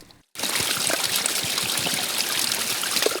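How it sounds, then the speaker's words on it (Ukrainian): Cascading streams pour into the Dniester river, making a loud, steady rushing and splashing of water close by. It starts after a brief drop to silence and then continues without a break. "можна подивитися на каскади струмків, які течуть у Дністер"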